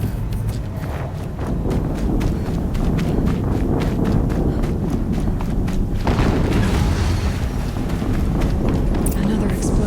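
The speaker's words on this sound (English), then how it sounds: "Another explosion." An explosion in the video game Horizon Zero Dawn, a heavy boom bursting out partway through over a busy game soundscape of rhythmic hoof-like thuds and clattering footsteps, followed by rumbling debris noise.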